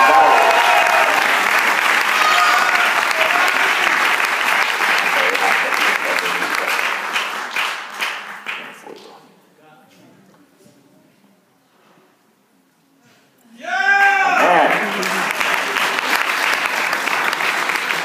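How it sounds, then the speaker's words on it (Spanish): An audience applauds loudly at a graduation ceremony, then the clapping fades to near silence. Partway through, a voice rings out and a fresh burst of applause follows. "Un aplauso"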